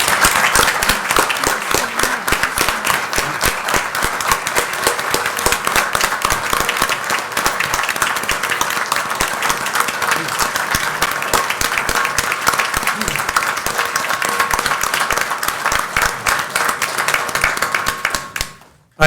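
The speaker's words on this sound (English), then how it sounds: "Let's give all of our support staff and all of our firefighters a round of applause." Sustained audience applause at a city council meeting, honoring firefighters and support staff, a dense steady clapping from a roomful of people lasting nearly twenty seconds before cutting off abruptly.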